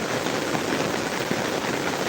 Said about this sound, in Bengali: এখনও বৃষ্টি হচ্ছে